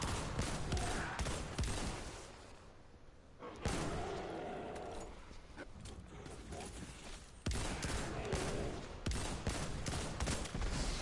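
Enemies blowing apart under explosive rounds in Destiny 2 Forsaken: dense, loud rapid gunfire and bursting blasts that run almost without a break and briefly drop away near the middle.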